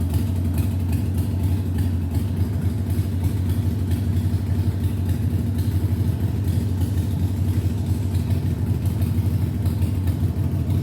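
An engine warms up at idle after its air-fuel mixture screw was adjusted, holding a smooth, steady low rumble close by for the whole stretch, with no speech.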